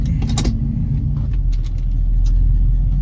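A 1969 Ford Mustang coupe with a 351 Windsor V8 starts and settles into a steady, loud low rumble close by, with brief clicks and jingling near the start and no talk.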